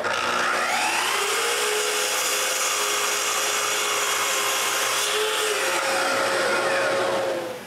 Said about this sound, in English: I cut all the rails.